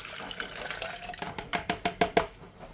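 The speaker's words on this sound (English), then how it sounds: "So I'm going to transfer this to a bigger jug." Strawberry jelly liquid is poured from a smaller container into a bigger jug, with a run of wet, sloshing glugs that grow louder and closer together toward the end, close by and with no voices.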